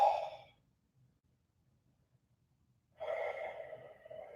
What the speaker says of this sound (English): inhale, turn the palms out, push the air down and out, exhale